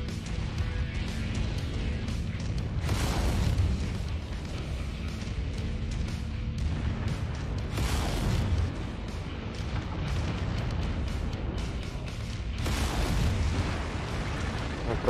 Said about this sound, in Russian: Взрывается